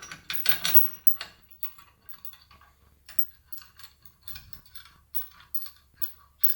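A bolt being threaded by hand into a differential mount during a Ford 8.8 differential conversion on a Mazda RX8 or NC Miata, giving ratcheting metallic clicks and small clatters, loudest at the start, close up.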